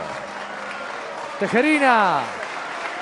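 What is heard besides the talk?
audience applause at end of boxing fight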